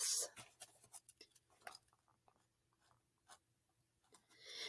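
A pencil writes a fraction by hand on paper, with a run of short scratchy strokes followed by a quieter pause and a few faint marks.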